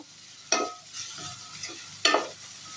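Potato and bitter gourd pieces get stirred in a pan with turmeric and salt: two sharp scraping strokes stand out over a faint background sizzle, with softer shuffles between them.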